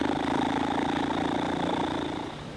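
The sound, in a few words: didgeridoo drone from buzzing lips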